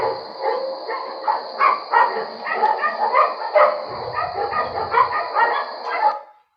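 Neighborhood dogs bark repeatedly in quick irregular bursts, fairly close and loud, with yips mixed in over a constant high electronic whine, then the barking cuts off.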